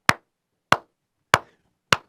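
Four single, sharp hand claps land at an even, unhurried pace, each crisp and close with silence between them and no voices.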